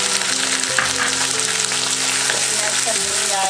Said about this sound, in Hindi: अब मैं इसमें टमाटर डाल रही हूँ और मैं इसमें इसको टमाटर को अच्छे से भूनूंगी